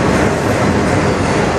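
A CN manifest freight train rolls through Sarnia close by, giving a loud, steady rumble with rhythmic clickety-clack of wheels over rail joints.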